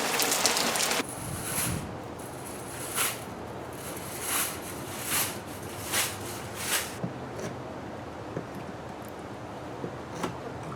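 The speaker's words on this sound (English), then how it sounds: "So right after I did that, it started pouring." Heavy rain pours steadily over a garden with a chicken coop nearby, a dense continuous hiss with a loud burst at the start and scattered louder drops and gusts throughout, no voices.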